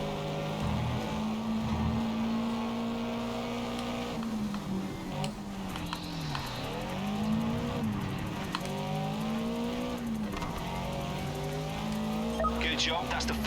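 A GT86 racing in the Project CARS 3 video game, its engine revving and shifting through gears in rising and falling sweeps as it corners, steady and prominent throughout with brief tyre and impact noises.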